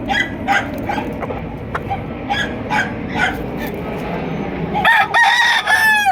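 A rooster crows loudly nearby, with another crow near the end, over background chatter and a dog's occasional barking.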